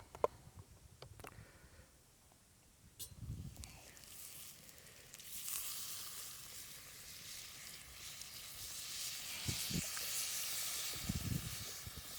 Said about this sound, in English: we're going to add the vegetable stock